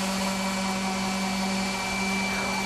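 A palm sander running steadily over a plywood surface, a continuous whirring motor drone with a gritty rubbing hiss, close and even throughout.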